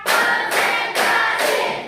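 A standing class of eighth-grade students claps together in a counted beat during a science lesson, with four dense, loud bursts of many hands spaced about half a second apart, no talking.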